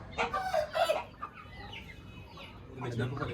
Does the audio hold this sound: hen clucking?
yes